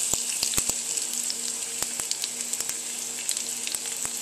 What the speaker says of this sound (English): Okay, so now we're ready to add the onions.